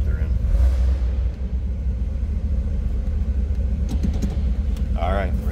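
A 1968 Chevrolet Corvette engine idles in neutral with a steady low rumble throughout, heard up close with a brief voice near the end.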